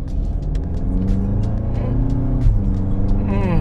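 A Volkswagen Golf 8 GTI Clubsport engine idles with a deep, steady rumble, rising in a couple of short revs, close and loud with no talking.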